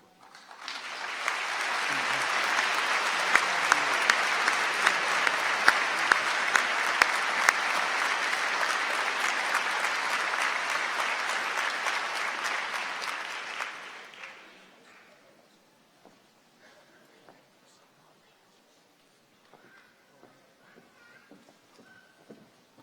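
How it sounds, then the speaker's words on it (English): An audience at a university commencement ceremony applauds loudly and steadily for about fourteen seconds before the clapping fades, leaving a few scattered claps and quiet room noise. "Another round of applause for Admiral Faison."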